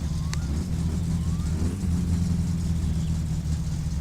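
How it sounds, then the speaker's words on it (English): Cold car engine in My Summer Car held at a steady rev, a continuous mid-pitched droning hum with slight wavering, close and constant. "It's never really good to rev a cold engine, but I gotta get the temperature up somehow."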